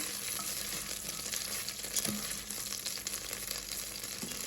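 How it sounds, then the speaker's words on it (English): Half a stick of butter melting in a pot for broccoli cheddar soup, a soft, steady bubbling sizzle with light clinks of a utensil, fairly quiet and without talk. "we're gonna start by melting down a half a stick of butter"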